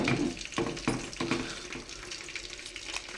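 Water splashes and pours into a vessel in a few short gushes, then settles into a quieter trickle.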